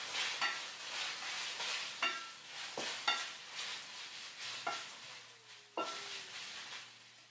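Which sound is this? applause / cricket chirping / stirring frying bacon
stirring frying bacon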